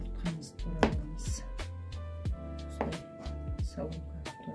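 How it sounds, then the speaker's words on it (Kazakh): A knife chops boiled eggs on a cutting board for a quick salad: a run of sharp, irregular thuds close by, with some kitchen clatter and a person talking between the strokes. "енді жұмыртқамызды турап аламыз"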